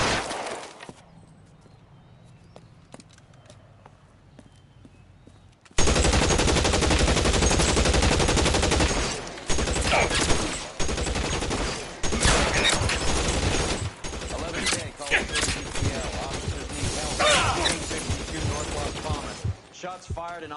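Gunfire in the video game L.A. Noire Remastered, a quiet opening followed by a sudden loud burst of rapid continuous shots with brief pauses, dense and close, speech mixed in.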